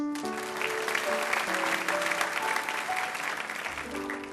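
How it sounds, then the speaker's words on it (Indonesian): A church congregation applauds steadily throughout a sermon, a dense wash of clapping with music playing softly underneath. "Beri tepuk tangan untuk Tuhan."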